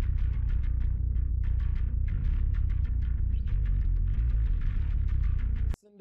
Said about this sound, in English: So let's take a listen to the bass here. I'm just going to solo the DI.